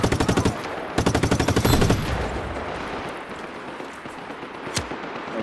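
Enemy gunfire in the open-world action game Just Cause 3: two rapid automatic bursts, loud and close, fade into a rumbling, noisy backdrop with a faint lone shot near the end.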